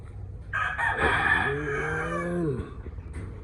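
A six-month-old Boston Roundhead gray gamefowl rooster crows once, a loud, close, drawn-out cock-a-doodle-doo lasting about two seconds.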